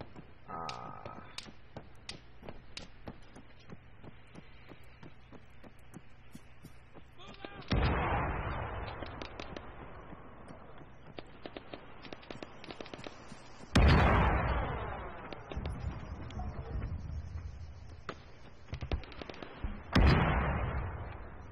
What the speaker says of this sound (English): Artillery is close to you, it doesn't look like it's going to get too close to you.